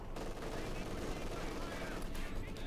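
An MG-42 machine gun rattles in rapid bursts during a Company of Heroes 2 match, with dense battle noise under a commentator's voice.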